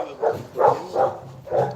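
A dog barks four times in a steady rhythm, close and fairly loud, each bark a short gruff burst with brief gaps between, at a rough rural shack under construction.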